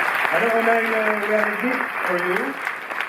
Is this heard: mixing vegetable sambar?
no